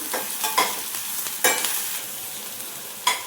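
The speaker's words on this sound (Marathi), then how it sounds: "आपण हे सर्व जिन्नस परतून घ्यायचे" Farm vegetables and other ingredients sauté in a generous amount of oil, a close, even sizzle punctuated by a few sharp stirring scrapes.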